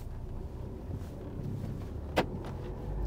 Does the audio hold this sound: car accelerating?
yes